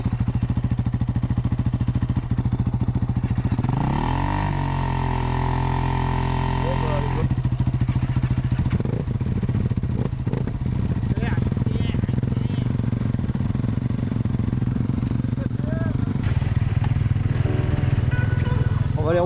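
Motorcycle engines start up and run at close range, a steady loud idle with a rising rev partway through, while people talk over the noise.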